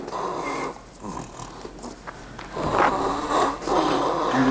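A calf on a factory farm bellows and breathes in harsh, labored rasps while in distress, producing a continuous rough, snorting sound that swells louder toward the end, with no talking.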